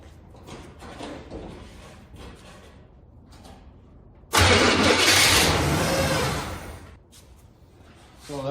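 A 1978 Chevy truck engine cranks and catches with a sudden loud roar that runs for a couple of seconds before dropping off, preceded by quieter clattering and handling noises up close.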